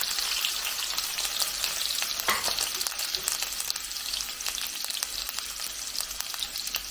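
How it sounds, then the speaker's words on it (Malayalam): Crushed shallots, ginger and green chili fry in hot coconut oil with a dense, continuous crackling sizzle, close and fairly quiet, broken by a few stirring scrapes in the pan and no talk. "ഇത് നമുക്ക് അതിനകത്തേക്ക് ചതച്ച് വെച്ചിരുന്ന ചുവന്നുള്ളി, ഇഞ്ചി, പച്ചമുളക് അങ്ങോട്ട് ചേർത്ത് കൊടുക്കാം"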